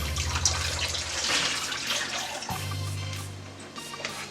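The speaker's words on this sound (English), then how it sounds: "And drain the water off of my potatoes." Water drains off boiled potatoes in a continuous rushing splash that runs for a few seconds, close by, with a short bump midway and no voices.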